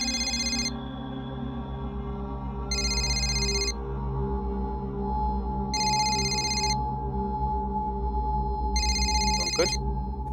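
A telephone rings over speakerphone in four evenly spaced bursts of bright trilling, each about a second long with gaps between, over a low steady hum and background murmur.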